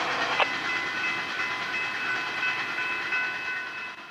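A Florida East Coast Railway freight train rolls past, a steady broad rumble of wheels and cars with faint high squealing tones from the rails, holding at an even level throughout.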